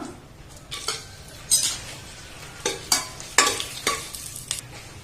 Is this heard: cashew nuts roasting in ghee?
yes